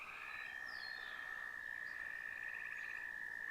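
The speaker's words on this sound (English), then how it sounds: "The frogs are just getting started. They'll get much louder as the night progresses." Frogs croak at a pond at night in a dense, continuous chorus at a steady level, with a faint hiss of background noise beneath.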